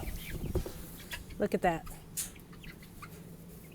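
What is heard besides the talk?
six and three week old chickens clucking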